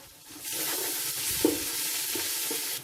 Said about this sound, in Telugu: ఇప్పుడు ఇందులో ఇంకొక టేబుల్ స్పూన్ అల్లం వెల్లుల్లి పేస్ట్ వేసేసుకుందాం